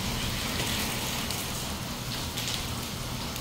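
Steady rain pours down on a rainy day, a dense continuous hiss of drops on surfaces, close and even throughout.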